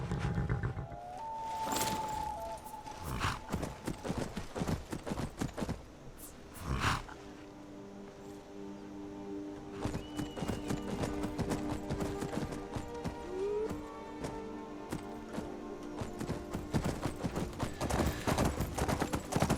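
Horses' hooves clip-clop steadily through a video game scene, a continuous rhythmic patter of clops close by with a brief whinny near the start and game ambience underneath.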